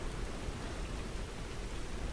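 Steady rain falls in an even, continuous hiss with no pauses or voices.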